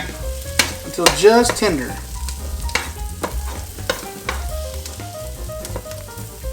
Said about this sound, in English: So we're going to cook our asparagus in here until soft.